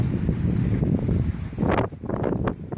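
Strong wind gusts outdoors buffet the microphone with a loud, continuous rushing roar that eases briefly near the end; no one speaks.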